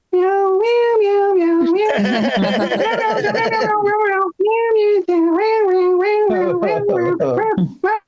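A voice imitates a cat, meowing over and over in a quick string of high, wavering mews with a brief pause partway through.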